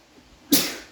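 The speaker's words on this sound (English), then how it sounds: "I'll sneeze." A single sharp sneeze from a person working on a Triumph TR6 engine rebuild in a workshop bursts out loud and close after a near-silent moment, then fades quickly.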